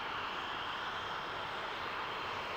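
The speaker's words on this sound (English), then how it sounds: "Its Rolls-Royce engines are buried in the wing roots to minimise drag." A de Havilland Comet jet airliner with Rolls-Royce engines buried in the wing roots flies at the 1994 International Air Tattoo at RAF Fairford, giving a steady, loud, broad roar of jet engines without a break.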